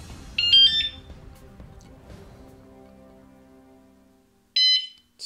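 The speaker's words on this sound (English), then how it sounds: "Okay, I just want to demo the alarm." A Sur Ron X electric motorcycle alarm gives two short bursts of high, piercing beeps, one near the start and one near the end, with near-silence between them.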